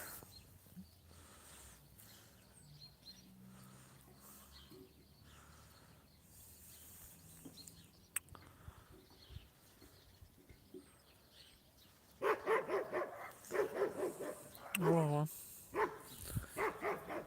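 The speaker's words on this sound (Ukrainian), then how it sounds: "Там якийсь собак." A few barks from a dog nearby ring out over quiet background noise, with a person briefly speaking and birds faintly audible.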